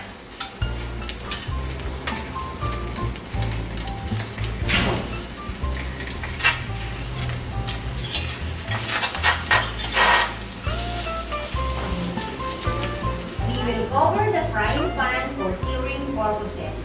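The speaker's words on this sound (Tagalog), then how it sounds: "ilalagay na natin ang chicken na mauuna ang skin nito para hindi dumikit sa ating frying pan" Chicken pieces fry skin-side down in a frying pan, the oil sizzling and crackling steadily throughout while utensils stir and clink against the pan and a person talks over it.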